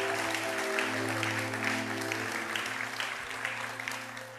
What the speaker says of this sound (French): Vous pouvez applaudir ce que Dieu fait et ce que Dieu va faire dans chacune de vos vies.